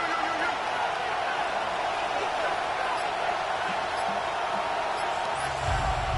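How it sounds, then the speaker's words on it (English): Steady roar of a stadium crowd in an EA Sports college football video game, loud and unbroken throughout, growing in the closing stretch with a low rumble near the end. "This crowd's trying to be a factor, getting very loud now."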